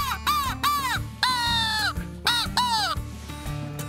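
A crow call being blown during a wild turkey hunt, a series of loud, harsh caws in quick succession, close up, imitating a crow.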